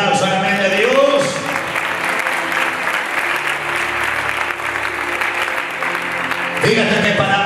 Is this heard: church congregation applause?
yes